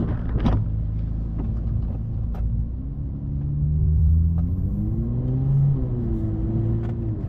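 A Ferrari 296 GTB hybrid supercar in race mode rumbles low after a downshift, its engine note rising and falling in a smooth swell close by, with no talking.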